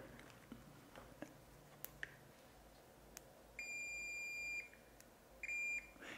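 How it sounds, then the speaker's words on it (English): An AstroAI AM33D budget manual-ranging multimeter gives continuity-test beeps, two steady electronic tones lasting about a second and about half a second, over faint handling clicks and taps. "It beeps and it's giving you the continuity there"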